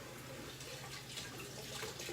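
Frozen corn rinsed under tap water gives a faint, steady stream of running water into a sink, brief and even with no talk.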